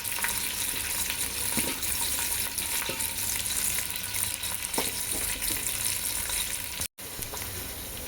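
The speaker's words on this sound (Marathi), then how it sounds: "त्यानंतर कांदा टाकून घेऊया। त्यानंतर मिरची पण टाकून घेऊया।" Onion and chilli sizzling in oil in a pan for vegetable rice, a steady close frying hiss with occasional stirring clicks, no talk.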